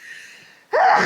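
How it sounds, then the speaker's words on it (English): A single sharp sneeze bursts out near the end after a brief quiet intake of breath. "sneeze."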